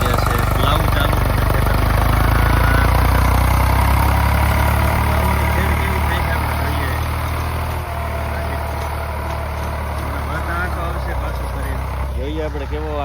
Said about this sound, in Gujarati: તમારે લીલચંદભાઈ જો ટ્રેક્ટર ચલાવી રહ્યા છે. પ્લાવ ચાલુ છે